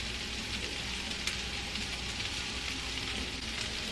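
A potato and egg pancake fries steadily in a pan, giving a continuous, even sizzle and crackle that stays fairly soft and close with no talking over it.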